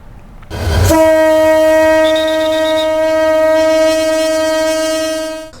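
A loud horn from the Chittagong University shuttle train sounds in one long, steady blast lasting several seconds before fading, preceded by a brief rumble. No voices are heard.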